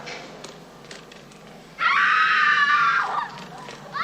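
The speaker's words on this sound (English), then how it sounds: "Some sound of screaming." A single loud, drawn-out scream bursts in after quiet background noise, holding for about a second before trailing off.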